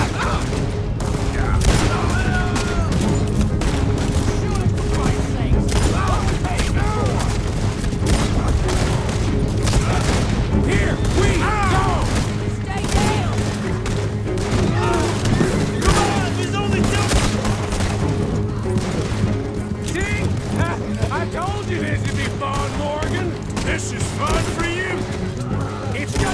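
Gunfire in a stagecoach robbery shootout in a video game, a dense, sustained fusillade of shots and booms over a steady background, with voices shouting now and then throughout.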